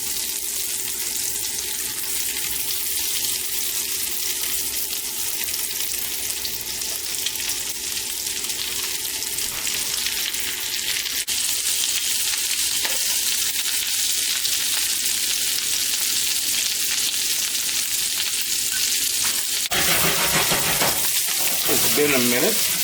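Jerk salmon fries in butter in a hot pan, giving a loud, continuous sizzle that holds steady throughout, with a brief clatter near the end.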